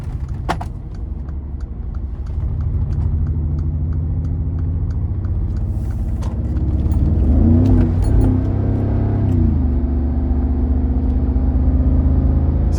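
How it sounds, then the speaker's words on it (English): A 2015 Mercedes-Benz G63 accelerates hard onto the interstate, its engine note swelling into a deep roaring rise with a shift partway through, heard from inside the cabin along with a few faint clicks. "So we're definitely gonna punch it getting on the interstate here."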